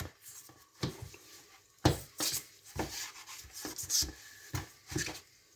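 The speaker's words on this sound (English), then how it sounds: "We are going to grease it with butter." Butter being rubbed around a baking dish for a pasta, broccoli, potato and tomato bake: soft, close scraping and smearing strokes in an irregular rhythm, with no talking.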